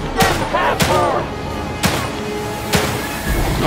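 Gunfire in The Evil Within 2 survival horror game, several sharp loud shots spaced unevenly over a few seconds, with a voice speaking between them.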